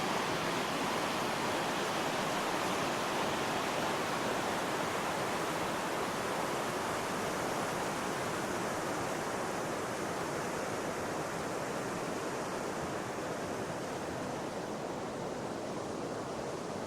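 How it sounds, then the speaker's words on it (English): A river flows steadily on a fine day, a broad, continuous rushing wash of water that stays loud and unbroken from start to finish with no voices over it. "The river is so beautiful. I hope that this camera picks up the sound."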